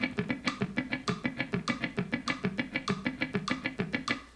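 Guitar economy picking runs a three-note pattern in steady 16th notes, giving an even, fast stream of distinct plucked notes, close and clear with no talk.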